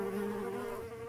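Buzzing bees thrown by a character in the Roblox Miraculous role-play game, a steady insect drone with a strong tonal hum and harmonics, fairly quiet and alone.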